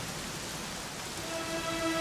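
Steady rain falls in a broad, even hiss throughout, with faint tonal sounds creeping in near the end and no talking.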